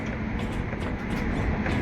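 A train near Vadodara rumbles past nearby, a continuous low roar of wheels and carriages with faint rhythmic clatter throughout.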